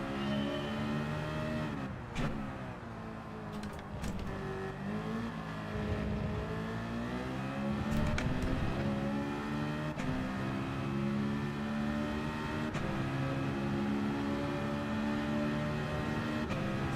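Race car engine in Gran Turismo 7 lapping Suzuka International Circuit, loud and close, with rising and falling revs, repeated gear shifts and sustained high-pitched whine through corners and straights.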